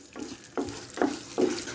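Cumin seeds and split white urad dal fry in hot oil over a low flame for amla chutney tempering, with four soft, evenly spaced stirring scrapes over a faint sizzle, close and quiet.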